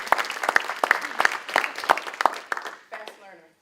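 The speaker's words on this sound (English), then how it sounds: "Join me in giving him a round of applause." Scattered, moderately loud claps from a meeting audience at an education kick-off event, irregular and thinning out, with a voice starting at the end.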